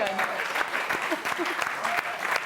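Studio audience applause in a slow clap, a steady patter of many hands with scattered sharper claps, with talk and murmurs mixed in.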